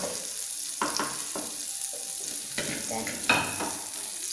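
Fish pieces fry in butter on a tawa for a Mangalore-style fish pepper dry, with a steady close sizzle broken by several louder bursts and stirring scrapes.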